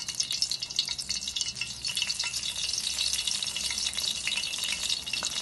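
A paratha cooks in ghee in a pan, giving a steady, close crackling sizzle with light fizzing pops throughout and no talking.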